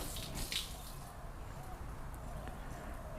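Water floods across a car body panel coated with a ceramic spray sealant, making a continuous close splash and patter that runs steadily throughout.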